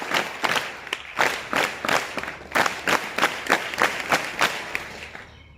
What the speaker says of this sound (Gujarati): આપણે 7 તાળીઓથી એમને વધાવીશું